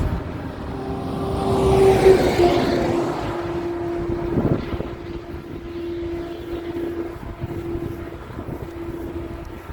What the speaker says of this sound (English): Those trucks seem a lot louder than they were back when I drove them.